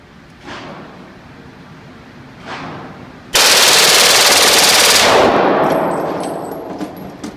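A Glock 18 machine pistol fires one loud full-auto burst of about two seconds at a shooting range. Two fainter single reports come before it, and the burst trails off into a fading echo.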